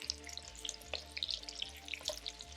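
Potatoes frying in oil for Georgian adjapsandal, broken up and pushed around with a spoon, give a steady close crackle and sputter, dense with small pops, and no voices.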